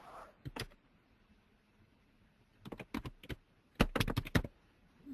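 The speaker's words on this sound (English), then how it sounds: "I can hear you typing" Short bursts of keyboard typing, a few quick clicks early, then two clusters of rapid keystrokes, close and fairly quiet against a faint background hiss.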